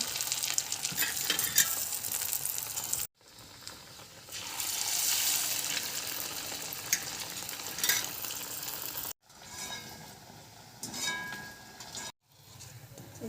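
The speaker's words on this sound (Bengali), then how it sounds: "এই যে ফরচুন সূর্যমুখীর তেল আমি নিয়ে নিচ্ছি এই যে এবার আমি রুটিগুলো ভেজে নেব" Rotis deep-frying in Fortune sunflower oil give a steady, close hiss and sizzle, broken by a few brief silent gaps, with no talking.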